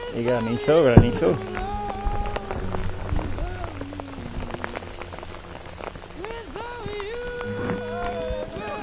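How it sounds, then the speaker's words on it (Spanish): Hail patters steadily on a surface at a mountain refuge, a dense clatter running throughout while people talk over it. "Granizo, granizo."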